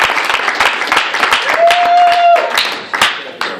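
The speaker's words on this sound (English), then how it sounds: "I would love y'all to give a round of applause for Scott," An audience at a university poetry reading gives a round of applause for a performer, loud close clapping with cheers and a brief whoop rising above it, the claps thinning toward the end.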